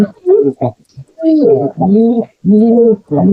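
Pet pigeons coo loudly at close range in a run of repeated throaty, rolling calls with short gaps between them.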